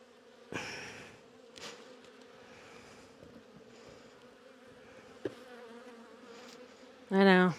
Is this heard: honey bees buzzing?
yes